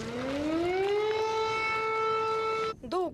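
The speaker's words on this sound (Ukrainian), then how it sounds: "зараз повітряна тривога" An air raid siren sounds during an alert in a village after a missile strike, one long rising wail that climbs and then holds a steady loud tone before cutting off, followed by a brief rustle nearby.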